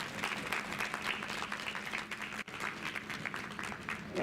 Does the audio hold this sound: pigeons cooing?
no